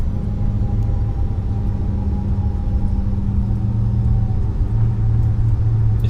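A CRJ jet's brakes rumbling steadily on landing in Microsoft Flight Simulator, a loud, constant low roar with engine drone that holds without a break.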